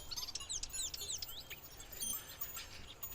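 A marsh warbler sings a quick, varied stream of high chirps, trills and whistled notes, fairly faint and alone against a soft background hiss.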